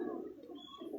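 Pigeons on a rooftop giving soft, low rolling coos, close and continuous with a faint higher chirp mixed in.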